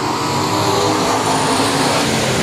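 600 mini sprint race cars on a dirt speedway in Texas accelerating back on the throttle, a loud, dense, steady engine roar with no talk.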